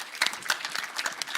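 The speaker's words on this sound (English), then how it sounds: "Big round of applause." An audience at a forum on the creative economy and sustainable development claps in a small, uneven patter of hands, moderately close and fairly light, with a faint murmur of voices.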